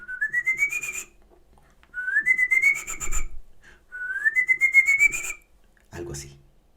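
A human voice imitating the ascending whistle of El Silbón, a Venezuelan legend: three rising whistled phrases, each about a second long, separated by pauses, close and fairly loud, followed by a short rustle.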